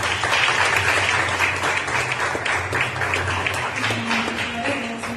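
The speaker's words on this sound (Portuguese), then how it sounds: "as palmas louvem a Deus" A church youth service congregation applauds steadily, a dense wash of clapping that stays loud from start to finish.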